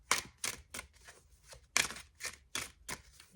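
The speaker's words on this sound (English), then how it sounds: "Give it just a couple of shuffles." Tarot cards being shuffled by hand for a reading, a quick series of about eight crisp riffling bursts close up, fairly quiet and without talk.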